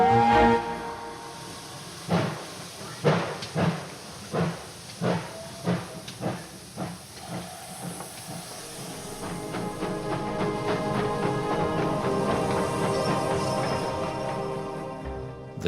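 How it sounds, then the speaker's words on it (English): A steam train vents loud hissing steam, first in a run of about eight rhythmic chuffing bursts, then in a long continuous roar of escaping steam, with no voices. "Steam."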